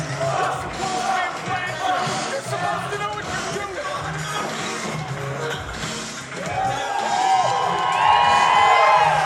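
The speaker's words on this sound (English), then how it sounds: "As the crowd here shows their appreciation for the Butcher of Buffalo and PUF." Wrestling match crowd cheering for a tag team, rowdy shouts and whoops from a large audience, swelling louder toward the end.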